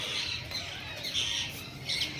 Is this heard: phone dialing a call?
no